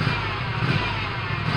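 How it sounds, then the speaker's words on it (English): Engine of a Kubota ZT725 zero-turn lawn mower revving steadily at close range, a continuous loud mechanical drone with no pauses and no talk over it. "I don't know why that lawnmower does that."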